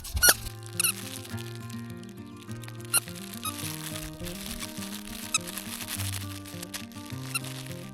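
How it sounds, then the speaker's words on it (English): A dog's new squeaky toy squeaks over and over as it is chewed, with sharp high squeals and pitch slides in uneven bursts, close and loud, broken by brief pauses and soft outdoor background noise. "just got his new squeaky toy"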